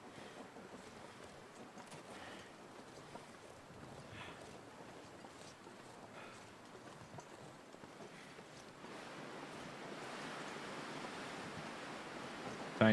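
A waterfall in the survival game The Long Dark gives off a steady, soft rushing roar like distant surf and wind. It holds constant and grows slightly louder toward the end, with no talk over it.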